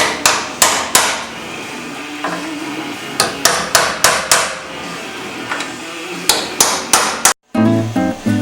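A hammer strikes a transfer punch on a steel C10 truck frame with sharp metallic blows, some single and some in quick pairs, spaced irregularly over a quiet workshop background.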